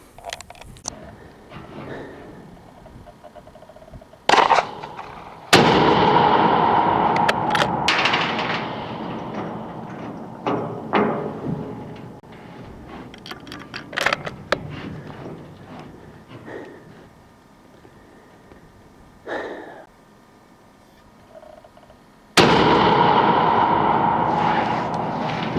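Shots from a Remington 700 in .243 fired at a blue 10 by 12 inch steel square target at long range outdoors, heard as a few loud sharp reports spaced apart with quieter stretches of rustling and faint background noise between them.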